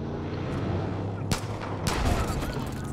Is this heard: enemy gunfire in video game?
yes